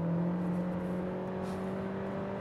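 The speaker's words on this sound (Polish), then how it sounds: "ten silnik wtedy od tych 4 do 6 tysięcy obrotów to pracuje jak blender, jak mikser, tak hałasuje" A Volkswagen T-Roc engine holds a loud, steady drone at high revs, between 4,000 and 6,000 rpm, humming evenly without rising or falling.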